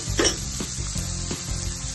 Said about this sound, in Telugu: పచ్చి కొబ్బరి తురుము వేయించేసుకోవాలి.